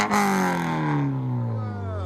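A 2020 Toyota GT86 2.0L with dual exhaust and muffler delete revs hard, loud and raspy, then its pitch slides steadily downward as the engine winds back toward idle.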